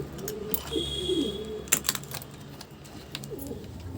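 A young pigeon in a rooftop box gives a few soft, low cooing sounds early on, faint and close, followed by scattered rustles and light knocks against a quiet background hum.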